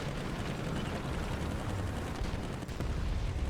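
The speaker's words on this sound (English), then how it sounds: "And such a powerful cannon. Such a beautiful sound." Heavy cannon fire from an SU-5-1 self-propelled gun in the War Thunder video game, a dense, continuous roar of booming blasts and rumble that fills the clip loudly without pause.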